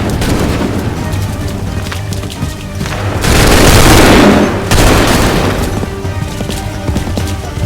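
Massed musket volley in Assassin's Creed III, a rolling burst of overlapping gunfire swelling to a loud roar mid-clip over a continuous din of battle noise and booms.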